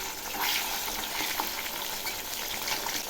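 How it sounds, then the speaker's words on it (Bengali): Rohu fish pieces, already browned on one side, are turned over and keep frying in oil, making a softer, steady sizzle with light spatter and scraping stirs. "এক পাশ ভাজা হয়ে গেছে, এবার উল্টে দিচ্ছি।"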